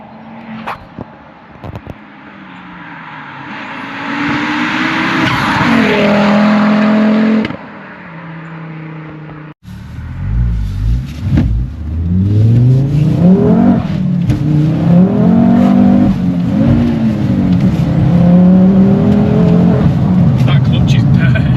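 A stage 3 big-turbo Ford Focus RS Mk2 drives and accelerates, its loud engine rising through repeated revs and gear changes with a brief cut partway, while people talk over it.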